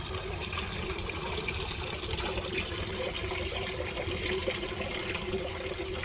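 Water pours steadily into a backyard pond, making a continuous, even rushing and splashing hiss at moderate distance with no break or change across the whole stretch.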